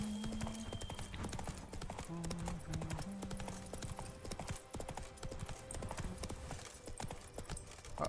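The horse Roach gallops in The Witcher 3, its rhythmic clip-clop hoofbeats running continuously at moderate level, with a few game tones and faint whinny-like sounds in the mix.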